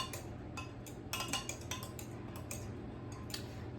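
A utensil stirs a chocolate cherry ice cream base in a container for a Ninja Creami, giving quick, irregular clinks and scrapes over a steady low hum.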